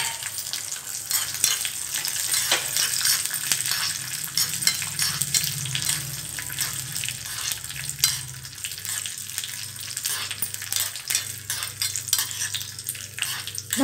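Raisins fry in a pan for boondi laddu, a steady close sizzle with crackling pops and occasional stirring scrapes, continuous and fairly quiet, with no voices.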